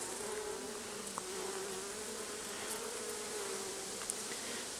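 Honey bees buzz steadily around a hive, a dense continuous drone with a few brief louder passes close by, no voices.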